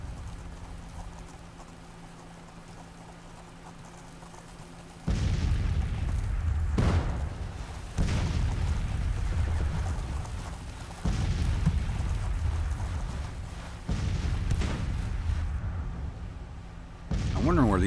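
Civil War artillery fires in Grand Tactician. After a quieter opening stretch, heavy cannon booms arrive in a series of roughly evenly spaced blasts, each rolling out into a rumbling tail.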